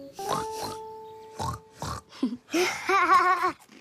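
Several short snorting grunts from a pig, close by, with a tonal hum in the background and a squealing grunt at the end.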